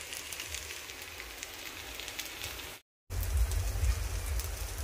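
Onions fry in a pan for crab masala, a steady close sizzle and crackle like light rain that cuts out briefly for a moment, then returns with a heavier low rumble, with no talking.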